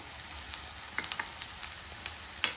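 Tomatoes with turmeric and salt frying in a pan for a South Indian brinjal potato curry, a soft steady sizzle close by with faint crackles and a few light stirring clicks.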